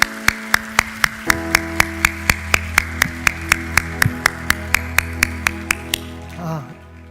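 A church congregation at a Sunday worship service claps together in a steady, even rhythm, each crisp clap evenly spaced over sustained musical tones, until the clapping stops and a brief rustle ends it.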